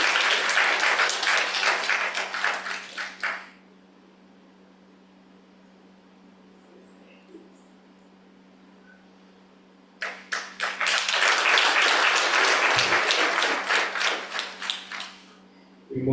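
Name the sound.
applause at ordainment ceremony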